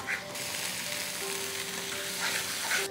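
Almond sheera frying in ghee as it is stirred in a pan, a steady close sizzle with soft scraping from the stirring and no voices.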